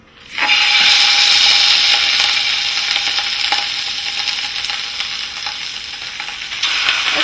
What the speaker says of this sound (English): I just want tiny little searing of that skin